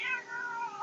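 A single cat gives a short, drawn-out meow, close and clear against a quiet background.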